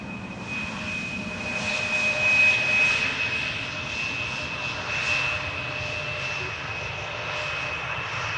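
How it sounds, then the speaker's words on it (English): Embraer 175 jet arriving at Amsterdam Schiphol Airport, a steady roaring engine hum that swells slightly as it passes, then holds at a moderate distance. "Embraer 175"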